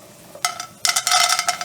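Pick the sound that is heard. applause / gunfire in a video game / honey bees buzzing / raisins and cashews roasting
raisins and cashews roasting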